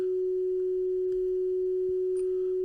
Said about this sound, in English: We need to send a neg 10 dB signal from this unit at 400 hertz.